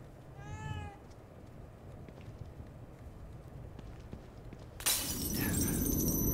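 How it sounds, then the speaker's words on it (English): A black cat in the video game The Evil Within 2 gives a short rising meow, then quiet ambience and footsteps follow before a sudden loud glass shatter. "A black cat crossing his path."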